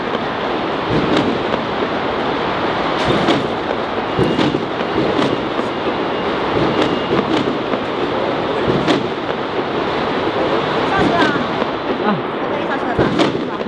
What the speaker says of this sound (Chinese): 今天这鞭炮放得好快呀